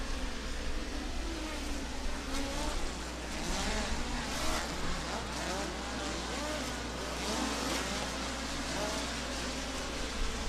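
Midget race car engines roar continuously at Valley Speedway during a POWRi National Midget League race, a steady loud dirt-track drone with no clear pass-bys.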